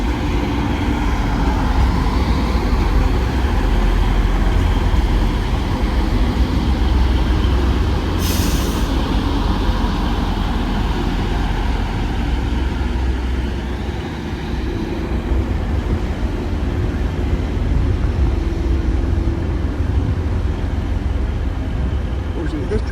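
A Class 185 diesel train leaves Dewsbury station bound for Redcar Central, its deep engine rumble holding steady and loud for a long stretch, with a short sharp hiss of air partway through.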